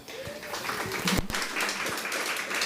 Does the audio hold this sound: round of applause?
yes